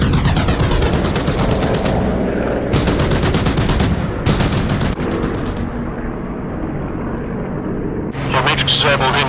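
Gunfire in a DCS combat flight simulator battle, loud sustained bursts of shots over constant engine roar, with pauses between volleys and a fresh burst near the end; a voice talks over it.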